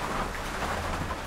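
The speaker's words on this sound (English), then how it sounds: "Come on, rain, get over." Steady rainfall in the survival video game Icarus, a dense, even hiss of rain on surfaces with a low rumble beneath, continuous and fairly loud for a brief moment with no voices.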